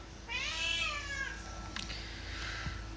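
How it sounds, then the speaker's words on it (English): A single drawn-out cat meow, fairly close and clear, rising then falling over a low steady hum, followed by faint rustling. "Sorry about the cat noise"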